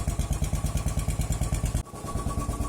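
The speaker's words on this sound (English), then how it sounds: "So as you can hear, the engine sounds well" A Royal Enfield Bullet motorcycle engine runs at a steady idle, its even, rapid thumping beat continuing throughout with a brief dip partway through.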